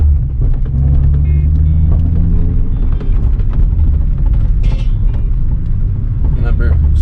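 A Nissan 350Z with a manual gearbox pulls away from a stop, its engine droning loud and close with a steady low rumble that rises slightly as it accelerates.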